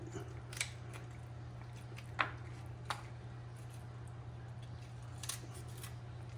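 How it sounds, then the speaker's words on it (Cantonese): A few sharp, isolated snips of scissors, spaced irregularly over a low steady hum, fairly quiet and close. "咁我哋剪咗佢啦，用把鉸剪"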